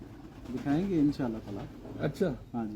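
Pigeons kept by a pigeon fancier cooing softly in the background, low murmuring calls heard beneath two men conversing nearby.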